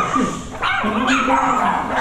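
Several dogs, including Jack Russell terriers and American Bully puppies, bark and yip in quick, overlapping bursts at a kennel, fairly close, with a busy, continuous chorus throughout.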